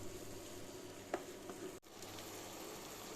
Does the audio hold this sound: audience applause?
no